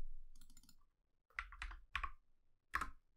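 Several quick bursts of keypresses on a computer keyboard, clustered clicks typed close to the microphone with short pauses between groups, no talking.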